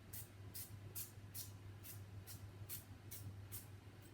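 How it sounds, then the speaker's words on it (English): Fry Light cooking oil spray pumped in a home kitchen while preparing peri peri chicken, about nine short, even, faint hissing spritzes in a steady rhythm over a low background hum. "So spray that with a bit of Fry Light"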